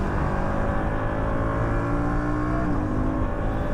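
An Aprilia RS457 motorcycle engine hums steadily while riding, a continuous close drone with a slight pitch shift near the end and wind noise.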